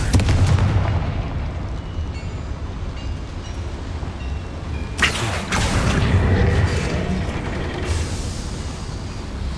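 Fiery Confringo spell blasts from the video game Hogwarts Legacy, cast inside a small mine, heard as loud booming bursts over a dense rumbling bed, with a sharp crackling explosion near the middle and another flare toward the end.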